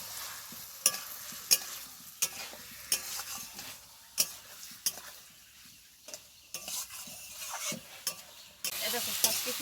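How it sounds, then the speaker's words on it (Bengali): A potato and pointed gourd curry fries in a pan with a steady sizzle. Repeated sharp scrapes and knocks of a spoon against the pan come every second or so. "এবার এটাকে একটু নেড়ে চেড়ে জল দিয়ে দেবো।"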